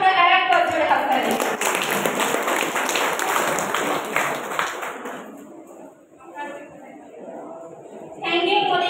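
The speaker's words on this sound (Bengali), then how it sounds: "এখানে উপস্থিত সবার জন্য আরেকবার জোরে হাততালি" Loud audience applause at an indoor gathering, a sustained wash of clapping for several seconds that fades out, with voices heard at the start and end.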